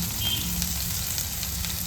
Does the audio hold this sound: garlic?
yes